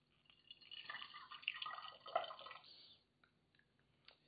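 Coffee kombucha flavored with vanilla and simple syrup pours into a bottle, a close trickling, gurgling stream that swells for a couple of seconds, then tapers into a few light drips.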